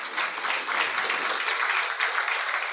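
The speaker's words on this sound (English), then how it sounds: "I really want us to applaud members of the community." Audience applause at a global symposium on civil registration and gender, a steady wash of many hands clapping that sustains evenly throughout, fairly distant.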